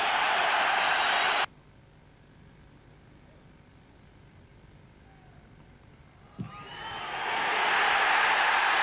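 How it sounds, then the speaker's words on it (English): A stadium crowd at the Rugby World Cup quarter-final between Australia and Ireland cheers an Ireland kick: a loud roar cuts off abruptly, a quiet stretch follows, then a swelling cheer builds again toward the end. "The crowd behind the post like it."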